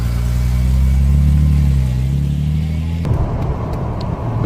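A BMW 3.0 CSi engine drones loud and steady at close range while driving, then the tone cuts off abruptly into a rougher, thinner noise near the end.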